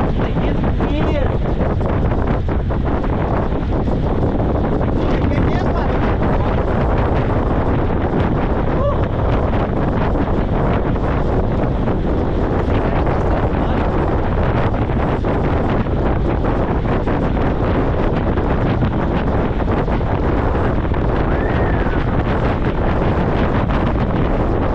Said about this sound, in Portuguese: Mas tá muito vento,